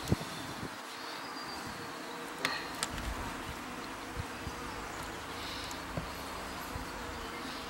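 Honey bees buzz around a split taken from a top bar hive outdoors, a steady close drone of many insects with occasional louder passes near the listener.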